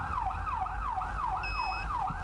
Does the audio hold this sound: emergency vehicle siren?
yes